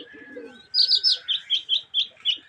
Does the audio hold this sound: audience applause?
no